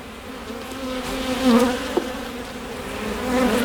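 Honeybees hum steadily from an open hive full of brood and honey stores, a dense close drone with a few louder passing buzzes, no voices.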